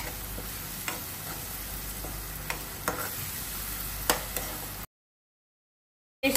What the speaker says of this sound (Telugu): పేస్ట్ని మనము త్వరగానే కలుపుకోవాలి, ఎందుకంటే ఇది మాడిపోకుండా